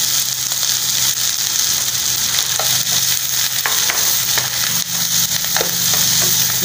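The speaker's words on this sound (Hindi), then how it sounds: "इसमें फिर हम ये शिमला मिर्च डाल देंगे, इसको भी थोड़ा सा सोता करेंगे" Chopped onions and green bell pepper (shimla mirch) sauté in a hot pan for chicken jalfrezi, a steady close, loud sizzle and crackle running throughout, with occasional scraping stirs and no voices.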